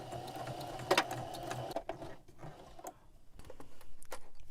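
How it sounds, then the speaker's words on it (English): A sewing machine runs steadily while edge stitching down the side hems of a smock apron's top facing. The motor hums close and continuously for a couple of seconds, then drops to quieter, intermittent mechanical ticks. "now I'm just going to edge stitch down the side hems of the top facing"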